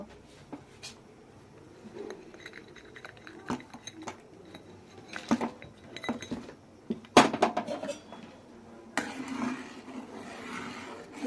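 Milk and jaggery stirred in a pot for dudh puli pitha: irregular spoon clinks and scrapes against metal, close and moderately loud, with brief gaps between strokes and no talking.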